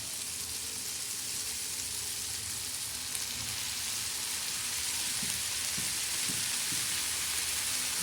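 Fenugreek greens are tipped onto a tava over browned onions and sizzle in a steady, dense frying hiss, close and even, with no voices.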